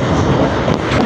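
A Kolkata local train on the B.B.D. Bag to Sealdah route via Majerhat rounds a curve near Tollygunge, giving a loud, close, continuous rumble and rattle with wind noise.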